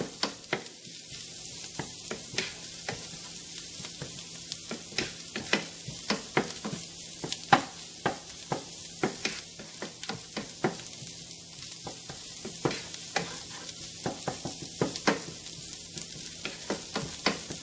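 Spicy crab masala sizzling in a pan as it is stirred: a steady, close frying hiss broken by frequent sharp scraping clicks from the utensil, with no voices.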